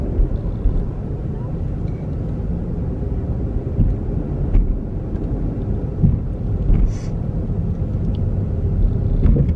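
A Chevrolet Camaro driven by a first-time driver gives a steady low road and engine rumble throughout, with some wind buffeting, while people talk in the car.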